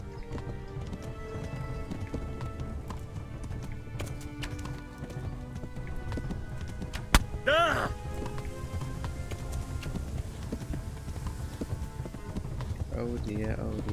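Steady hoofbeats of a galloping horse in Kingdom Come: Deliverance run throughout at moderate level, with a brief sharp crack and short whinny-like calls partway through.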